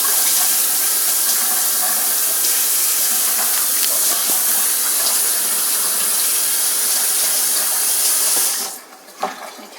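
Hot water runs steadily from a kitchen tap for about nine seconds, a loud continuous splashing hiss, then cuts off abruptly, leaving a faint clink.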